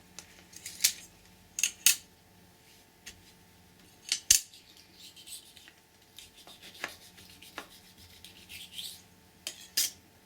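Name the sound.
scissors cutting out a shape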